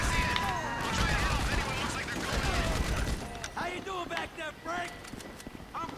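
Sustained automatic machine-gun fire in GTA V during a bank heist, a rapid unbroken clatter for the first three seconds before thinning into scattered bursts under someone talking.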